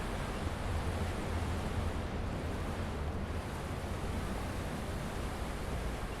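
Steady, dense rush of falling water from a waterfall at a damaged hydroplant, a constant broadband roar that holds at an even loudness throughout with no pauses.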